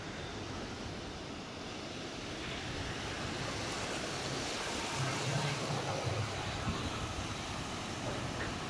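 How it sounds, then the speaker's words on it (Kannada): Waves roll steadily onto a beach at night, a continuous broad wash of surf mixed with wind noise buffeting the microphone, holding at an even level for the whole stretch with no voices. "ನೋಡಿ ಅಲೆಗಳು ಹಿಂಗೆ ಬರ್ತಾ ಉಂಟು ಅಂತ."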